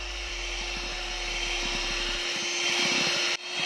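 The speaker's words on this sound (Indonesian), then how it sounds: "ini kita sambil mixer." An electric hand mixer whirs steadily as it beats egg whites with cooked agar-agar for a layered foam pudding, a close, even motor drone that stops abruptly near the end.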